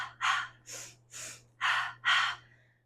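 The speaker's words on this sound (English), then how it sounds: "You're going to inhale twice through your nose and out through your mouth twice." Espresso shot breathing during a yoga class, heard close and alone: five sharp, forceful breath bursts, with quick sniffing inhales through the nose and puffing exhales through the mouth, then a trailing release.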